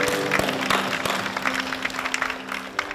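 A congregation at a prayer gathering applauds after a testimony, scattered individual claps standing out over a thinner crowd of hands, with a faint steady hum underneath.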